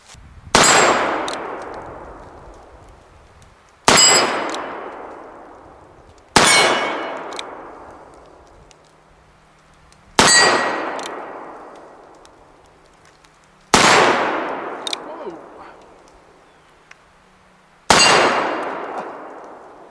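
Six loud shots from a Ruger Old Army revolver spaced a few seconds apart, each followed by a ringing metallic clang from steel targets that fades slowly, heard outdoors with no talking.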